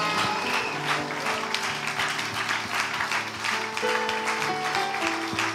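A church congregation applauds and cheers the Lord, with dense, sustained clapping and voices filling the hall at a steady, loud level from start to end.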